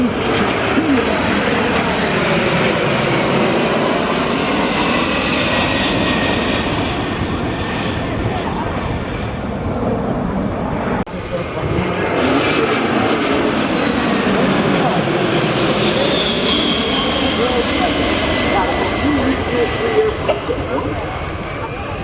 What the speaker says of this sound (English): The B-52 coming into Oshkosh.